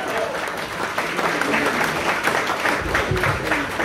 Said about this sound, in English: A big round of applause for Dougie Smith there